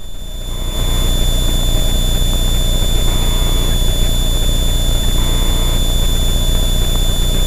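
Engine of the aerobatic plane Christine idling smoothly, a steady loud drone with a constant high whine, holding even throughout without talk.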